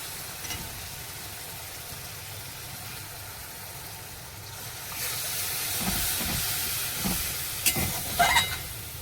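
Water goes into a pan of oil-fried spice paste for a curry, setting off a steady hiss that swells into a louder, bubbling sizzle with a few sharp crackles near the end, close by and without talk.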